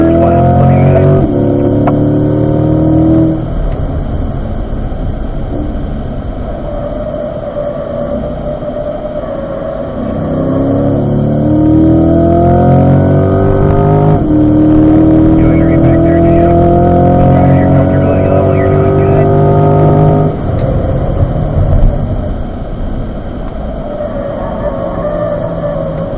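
Chevrolet Corvette lapping a race track during an owners' driving school, its engine a steady loud drone with rising and falling pitch as it accelerates through gears and lifts for turns, continuous for the whole stretch.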